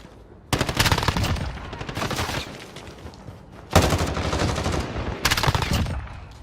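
Automatic gunfire from the Modern Warfare video game comes in loud, rapid bursts, three or four sustained volleys separated by short quiet gaps.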